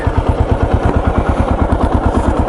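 Kawasaki KLR 650 motorcycle engine running close by with a steady, rapid low thumping pulse that holds evenly throughout.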